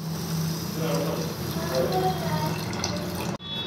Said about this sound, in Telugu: ఇందులో వాటర్ పోసుకొని ఒక రెండు సార్లు కడిగేసి అంపేయాలి